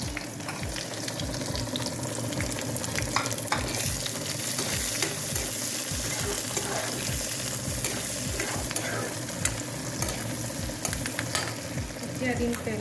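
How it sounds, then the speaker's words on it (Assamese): Chopped onions frying and sizzling in hot oil, cooked for a traditional Assamese fish curry, with steady crackling and occasional stirring scrapes throughout, no talking. "মই দিম কাটি থোৱা পিঁয়াজখিনি।"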